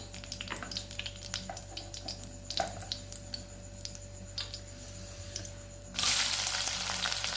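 Onion and bay leaf frying in hot oil, a quiet steady sizzle with soft crackles and pops, then a louder burst of hissing near the end.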